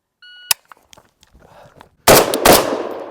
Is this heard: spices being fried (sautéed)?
no